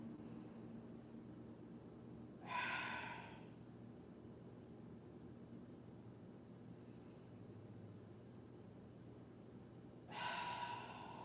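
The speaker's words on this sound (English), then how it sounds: "Drop the jaw and exhale. And you should hear your exhale." Two deep, audible breaths during Kemetic yoga, each a short rushing exhale several seconds apart, close and clear over a quiet hiss with no talk.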